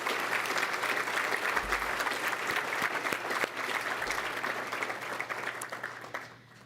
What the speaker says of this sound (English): I wish we'd all give them a big applause